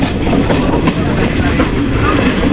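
Train rolling along the Kollam–Sengottai railway route in Kerala, a loud, close, continuous rumble with rhythmic clickety-clack of wheels over rail joints and steady rattling of the carriages, no talk.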